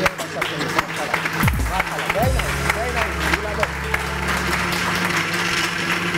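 A studio audience on a live morning TV show claps in a steady patter, mixed with voices and background sounds at fairly even loudness.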